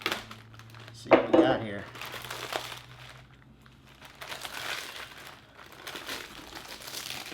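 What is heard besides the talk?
plastic vacuum bag being cut and removed from dry-aged beef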